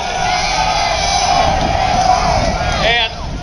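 A large outdoor crowd at Ron Paul's Revolution March rally cheers and whoops in a sustained roar, loud and close, and a voice carries over it.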